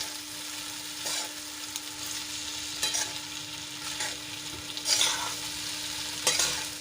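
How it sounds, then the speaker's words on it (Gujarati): A spoon stirs a cooked rice mixture with added lemon juice in a pan, soft scraping strokes repeating every second or so over a steady faint sizzle. "હવે બધું સરસ રીતે મિક્સ કરી લઈશું."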